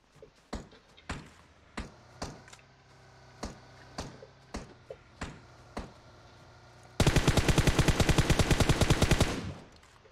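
Gunfire comes first as a string of single sharp shots spaced about half a second apart, then breaks into a loud sustained automatic burst lasting a couple of seconds before it cuts off.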